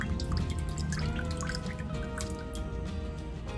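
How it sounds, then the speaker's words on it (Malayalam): Half a lemon is squeezed into a tulsi drink, with continuous close trickling and dripping of juice and liquid into the glass throughout, no voices. "ഒരു പകുതി ചെറുനാരങ്ങ നന്നായി പിഴിഞ്ഞിട്ട് ഇതിലേക്ക് ചേർത്ത് കൊടുക്കാം."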